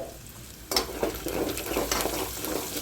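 Turmeric and eggs frying in a pan for a spicy egg curry, a quiet hiss that jumps into a loud, continuous sizzle with spoon stirring and scraping throughout.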